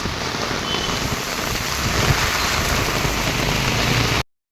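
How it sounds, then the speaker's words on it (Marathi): Heavy rain pours steadily at night in monsoon weather in Maharashtra's coastal districts, a dense, even hiss that continues unbroken until it cuts off abruptly near the end. "हा पाऊस बघा किती चालला"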